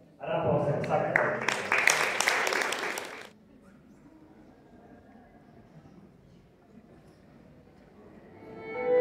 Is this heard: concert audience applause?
yes